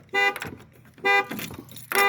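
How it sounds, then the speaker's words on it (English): A truck's car alarm blares in three loud, evenly spaced horn-like bursts, close by and with no voices. "I set the alarm off on the truck."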